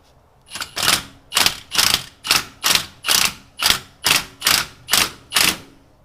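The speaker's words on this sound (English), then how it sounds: "I'm gonna use an impact because this is stupid" An impact wrench rattles off LS1 cylinder head bolts in about ten loud, evenly spaced hammering bursts, each roughly half a second long, close up with no talking.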